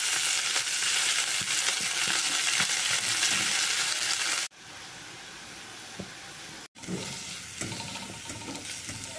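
Fenugreek seeds fry in hot oil with chopped garlic in a pan, a loud, steady crackling sizzle that drops away briefly twice before resuming, with no voices.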